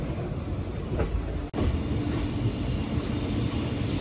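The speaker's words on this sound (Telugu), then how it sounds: "మేవార్ ఎక్స్ప్రెస్ అది." The Mewar Express rumbles past loudly and continuously near Hazrat Nizamuddin in Delhi, with a steady rolling roar of wheels on rails and a brief sharp clack partway through.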